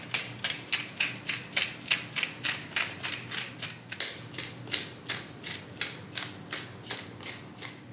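Salt and pepper being ground onto raw skin-on chicken thighs, a quick, regular series of close crackly grinder clicks in steady rhythm, fairly quiet, with no talk.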